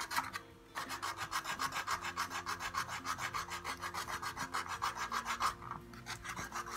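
Aluminum foil rubs rust off the metal frame of a Bugaboo Bee stroller in fast, rhythmic back-and-forth rasping strokes, close and steady, with a brief pause near the start and another near the end.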